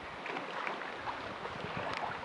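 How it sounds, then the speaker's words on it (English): Wind gusts across a river while a canoe is paddled through small waves on the Clyde River, a steady close rushing noise with no talk. "We are fighting the waves and fighting the wind."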